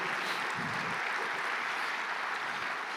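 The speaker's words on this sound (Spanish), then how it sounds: "Dele fuerte un aplauso al Señor" Church congregation applauding during a Spanish-language Sunday service, a steady dense wash of clapping that holds evenly for the full stretch with no voices over it.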